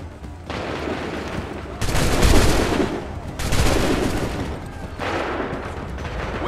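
Musket volleys in the Assassin's Creed 3 video game, loud massed gunfire in three long rolling bursts, each a dense crackle of many shots with heavy booming low end, separated by brief lulls of battlefield noise.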